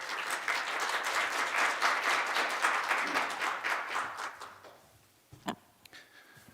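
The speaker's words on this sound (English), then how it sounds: "Please welcome him with a warm round of applause." An audience at an economic policy conference gives a warm round of applause to welcome a speaker. The dense clapping holds steady, then fades out after about five seconds, leaving a few stray thumps and a quiet room.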